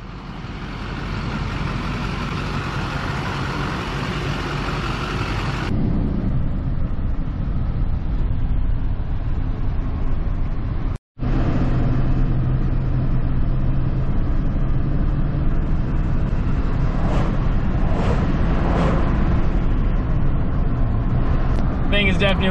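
A dually pickup truck, bought as a tow rig and running a quiet stock exhaust, drones steadily while driving, a low, even engine and road rumble with a brief cut midway and talk over it.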